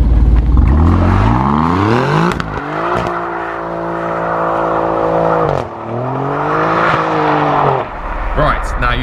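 An Alfa Romeo Giulia Quadrifoglio on P0 tyres, with all driving aids off, accelerates hard on snow. The engine rises and falls in loud, close revs as the wheels spin, dropping briefly between sharp climbs in pitch.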